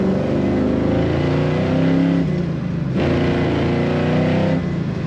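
A 1968 Chevrolet Camaro SS with the L78 engine revs hard under throttle. The loud, deep exhaust note climbs, dips briefly, then rises again, with rolling harmonics from close range.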